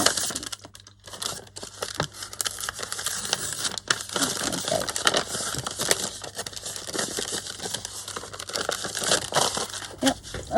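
Paper being cut down by hand for a junk journal pocket, a steady run of close crinkling, snipping and rustling with sharp little cracks, no talking.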